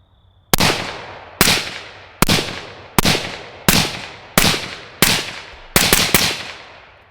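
Suppressed rifle shots from an LMT fitted with an Anechox suppressor, fired at night outdoors: nine sharp, loud cracks with short decaying tails, spaced roughly evenly about a second apart, the last two coming quicker.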